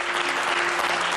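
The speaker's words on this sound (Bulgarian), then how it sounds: "3 кутии за Ончо, силни аплодисменти, да го подкрепим" Dense, steady clapping from a game show studio audience, loud and continuous with no pauses.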